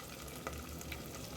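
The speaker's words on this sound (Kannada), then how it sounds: "ಇದು ಹಾಕ್ಕೊಂಡು ಚೆನ್ನಾಗಿ ಫ್ರೈ ಮಾಡ್ಕೋಬೇಕು." Onion, green chillies and curry leaves fry in hot oil, giving a steady soft sizzle with faint crackles and a light stir, quiet and close.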